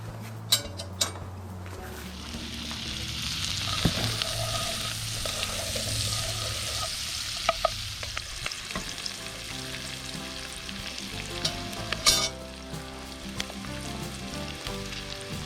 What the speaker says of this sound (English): That garlic started to roast a little bit, and that those onions have started to sweat.